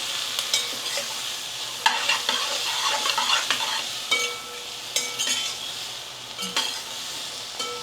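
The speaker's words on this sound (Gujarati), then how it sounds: "હવે આપણે મિક્સ કરી દઈએ ઢોલાનો સંભારો" Dhola sambharo, a vegetable relish, is mixed in a pan, with brisk spoon scrapes and clinks against the metal over a steady sizzle, repeated irregular strokes close up and with no talking.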